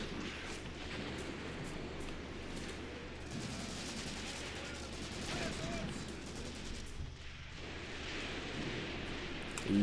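Continuous distant gunfire and artillery rumble in the Graviteam Tactics: Mius Front war game, a dense crackling barrage with booms rising and falling over about ten seconds.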